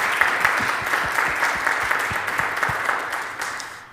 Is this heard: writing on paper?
no